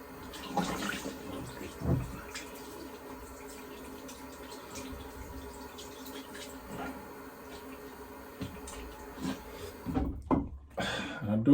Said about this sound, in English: So I'm just going to do a quick rinse.